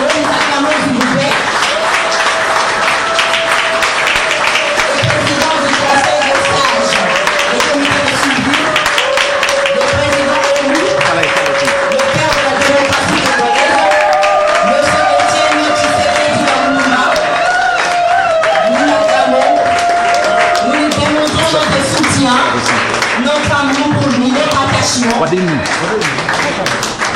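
A Paris crowd of supporters claps and cheers steadily for Étienne Tshisekedi, president-elect of the Democratic Republic of Congo, while an amplified voice speaks over the dense, continuous applause.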